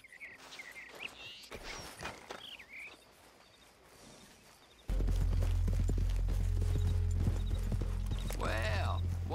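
Horse hooves clip-clop in Red Dead Redemption 2 as an American Paint is sold, joined by a whinny near the end, with crickets and speech over a dense game soundscape that grows much louder halfway through.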